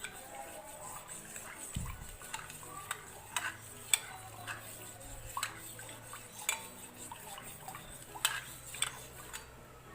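Spoon stirring yogurt starter into milk in a pot for shrikhand, with soft repeated metallic clinks and taps scattered across the clip under a quiet background hum.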